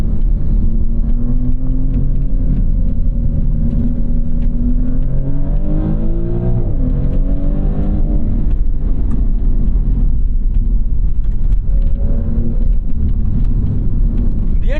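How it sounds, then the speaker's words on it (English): A 2024 Maserati GranTurismo Trofeo engine revs and pulls hard under acceleration, its pitch rising and falling through gear changes, loud and steady with a low rumble throughout. "engine is making good power"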